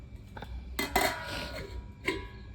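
A lid set onto a cooking pot of malai paneer, with torn chillies on top, in a village-style kitchen: a couple of close metallic clanks and a clink, with faint background noise and no talk.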